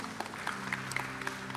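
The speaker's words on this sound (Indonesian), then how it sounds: "tepuk tangan buat Tuhan saudara." A church congregation claps in a brief, light burst, scattered hand claps over a low hum, fairly faint and lasting under two seconds.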